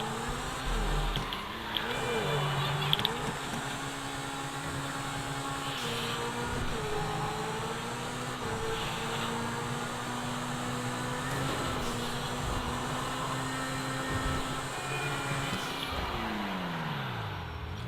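The engine of a Lamborghini Sesto Elemento in GTA V drones steadily, a continuous motor tone rising and falling gently through gear shifts over eighteen seconds, heard from outside the car and without speech.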